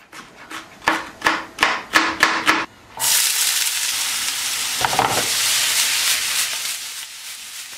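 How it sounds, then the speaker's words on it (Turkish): A run of quick rhythmic knocks gives way to a loud, steady hiss as onions and peppers hit hot oil in a frying pan and sizzle continuously close up. "Kızan tavamda öncelikle soğanları sotelemekle başlıyorum."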